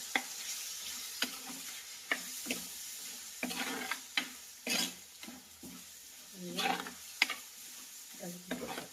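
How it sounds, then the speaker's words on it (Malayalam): Rasam stirred with a spoon in a pot, soft scraping and liquid swishing strokes repeating irregularly at close range, with faint sizzling beneath. "ഇനി നമുക്ക് തന്നെ ഇളക്കി കൊടുക്കണം"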